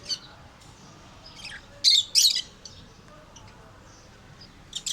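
Birds in a small home farm aviary give short, faint squawks and chirps, scattered singly and in brief clusters over a quiet background.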